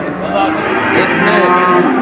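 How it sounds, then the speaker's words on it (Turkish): A cow moos loudly and steadily for about two seconds at the Çubuk live animal market near Ankara, with crowd chatter and voices from the busy market around it. "Bak o inek"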